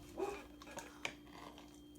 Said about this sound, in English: What are you barking at, sir? What are you barking at?